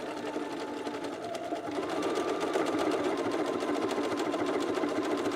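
A domestic sewing machine, a lightweight model, stitches a buttonhole with a steady rapid mechanical whir that grows a little louder partway through, close up and with no voices.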